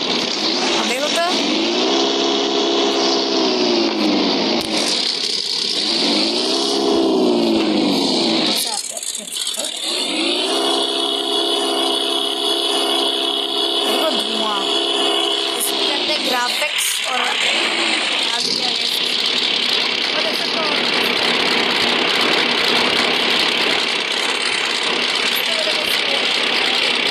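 A toy car played through a car simulator game gives off a whining electronic engine tone that rises and falls in pitch through repeated revving sweeps, loud and close, with a person talking over it at times.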